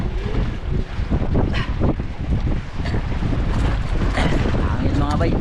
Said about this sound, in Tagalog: Lakas ng amihan